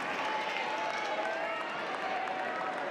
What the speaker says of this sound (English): Heard a little bit of crowd noise